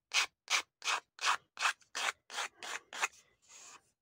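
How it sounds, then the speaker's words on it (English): A nail file rasping rough bits off an altered playing card, about ten short, even scraping strokes in a steady rhythm, close and quiet, ending in a softer, longer rub. "I've got a nail file here."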